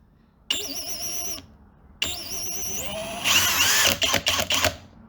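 A Flex 24V brushless cordless drill runs at speed setting 2, a steady high motor whine in two close bursts, the second ending in rattling clatter, loud and near with no talk.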